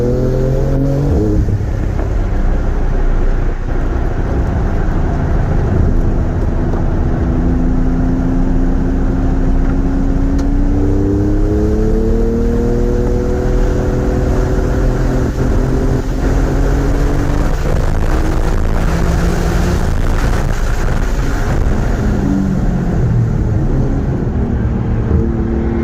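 A 2022 Porsche GT2 RS engine pulls hard at wide open throttle on a race track, loud and close, its droning tone sweeping up through the gears with brief shift dips, unbroken for the whole stretch.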